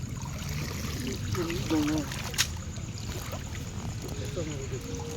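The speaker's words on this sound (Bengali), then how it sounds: "হাড়ি দিক দিয়ে জল আসছে" Rainwater trickles steadily in through the side of a pot used to catch bhetki fish, a low continuous wash of water beneath intermittent talking.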